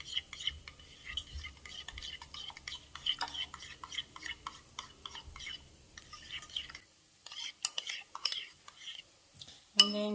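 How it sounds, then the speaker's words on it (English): A spoon stirs a vegan crab cake mixture with lemon juice in a bowl, making soft close scraping and light clinks that pause briefly before a final sharper clink. "And just give it a stir."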